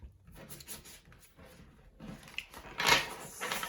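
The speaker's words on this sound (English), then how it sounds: "Just shuffling your cards." Tarot cards being shuffled close up in a quiet room, soft rubbing and slapping of card stock in uneven bursts, growing louder toward the end with a brighter riffle.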